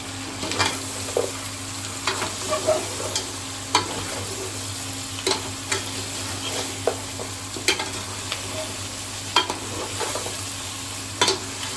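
Goat head curry cooks in a pan as a spoon stirs it, steady sizzling under repeated sharp scrapes and clacks against the metal, close and unaccompanied by talk.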